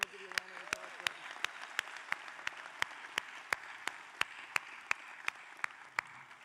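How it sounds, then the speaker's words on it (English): Faint graduation-ceremony applause for the Class of 2026 washes softly in the background, while one set of hands claps sharply at a slow, steady beat closer by. A voice is heard briefly at the start. "I want to give you a round of applause for this."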